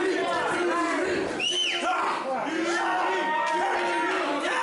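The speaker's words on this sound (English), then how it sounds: "This crowd now getting behind Dewey." A professional wrestling crowd cheers for Dewey in a loud, sustained roar of overlapping voices, with rising shouts and chant-like calls throughout.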